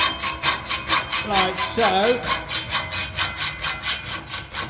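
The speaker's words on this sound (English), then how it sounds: "I use my hacksaw. I really enjoy using my hacksaw, so it'll make short work of this tube," A hacksaw cuts a metal tube held in a vise for a custom bike build, with rapid, even back-and-forth strokes close by. A brief spoken remark comes partway through.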